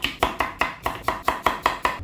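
A knife chops jicama (singkamas) on a cutting board in a steady, even rhythm, about ten crisp, close strikes in quick succession, with no talking.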